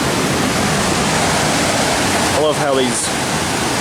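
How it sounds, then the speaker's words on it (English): A river swollen by heavy rain rushes through rock channels carved by the water, a loud, steady broadband roar filling the whole clip, with someone speaking briefly over it near the end. "where this river flows through"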